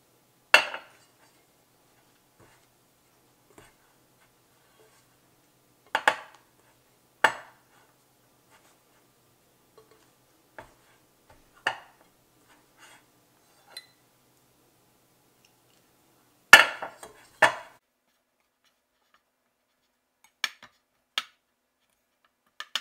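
Apple tart pastry dough being mixed by hand in a bowl, giving sparse, quiet clinks and scrapes of a utensil against the bowl in scattered clusters, with long silent gaps and no talking.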